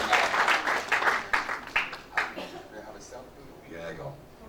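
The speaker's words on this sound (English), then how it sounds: "Give a round of applause." Audience applause at a health and wealth summit in Tiverton, a dense burst of clapping that peaks in several surges and then tapers off, with a voice heard faintly near the end.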